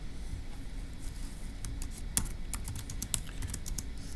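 Fingers type on a computer keyboard in a steady patter of soft clicks, with a couple of sharper keystrokes standing out; nearby and fairly quiet, with no talking.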